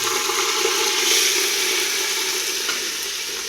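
Lubia beans fry in a pan for biryani with a loud, steady, close sizzle that runs unbroken throughout, with no voices.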